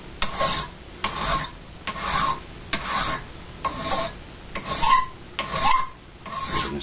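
A file works by hand across a forged knife blade in even, rhythmic rasping strokes, about one stroke a second, close and clear with no talking.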